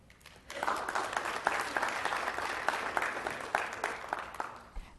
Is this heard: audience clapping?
yes